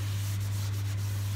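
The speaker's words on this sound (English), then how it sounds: "It's going to need a little bit more sanding." Sandpaper rubs a turned wooden bowl spinning on a lathe, a steady close-up friction hiss over a constant low machine hum, with a few faint brief scratches.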